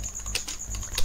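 Computer keyboard typing, a quick run of light key clicks ending in a firmer enter keystroke, close and clear with no talk.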